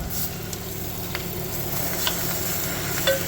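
Pork hits a pan of sauteed onion while cooking spaghetti with pork, giving a close, steady crackling sizzle throughout with a few faint clinks and no talking.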